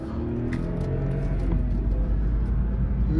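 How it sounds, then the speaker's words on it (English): A BMW E93 convertible drives out of a neighborhood, its engine a steady, close, low rumble with a slight rise in revs, no talking over it. "We're in the E93, driving out of the neighborhood."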